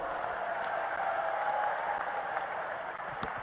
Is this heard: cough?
no